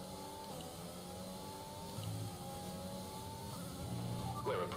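A Williams F1 2020 race car on the Great Britain circuit accelerates with a droning engine note that climbs in pitch, quiet and steady throughout, with a brief tyre squeal near the end.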